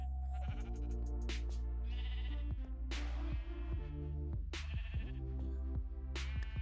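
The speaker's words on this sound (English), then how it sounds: "I feel like the sheep just don't want to eat the grass." Sheep bleat repeatedly in a hardcore survival video game, short cries spaced over steady background music, with no talk over them.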